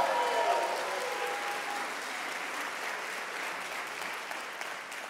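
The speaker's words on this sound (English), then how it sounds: "If you're going to clap, clap like you believe you're ready for a harvest." A church congregation claps in a dense, steady wash of applause that starts fairly loud and fades slightly over about five seconds, with no voices on top.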